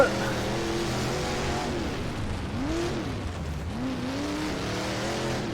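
Dirt modified race cars in the rFactor 2 racing game, a steady loud engine drone with rising and falling pitch sweeps as the driver works past other cars, continuous throughout.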